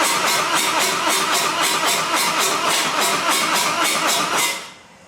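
A Harley-Davidson Road Glide motorcycle that won't start cranks over repeatedly, a loud, close, rapid rhythmic churning of the starter that runs for several seconds and then cuts off without the engine catching.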